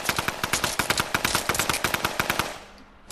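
Rapid automatic weapon fire in the video game Fortnite: a long, loud, evenly spaced burst of shots that cuts off, leaving a short quiet tail.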